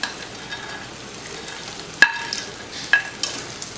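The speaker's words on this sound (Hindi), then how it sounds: "अब इसमें हम डाल देंगे थोड़ा गोभी और मटर" Cauliflower, peas and cashews frying in oil for navratan korma: a low steady sizzle with two sharp clinks of a spoon against the pan partway through, no voices.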